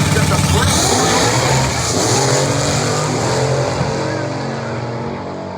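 A 1967 Cutlass and a 1981 Mustang roar down a Sick Week drag strip side by side, a loud, sustained engine howl that stays near and powerful before easing slightly toward the end.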